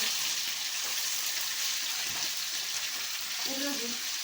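Tempering spices crackle and potatoes fry in a hot kadhai, a steady, close sizzle that holds through the whole stretch, with a faint voice briefly near the end.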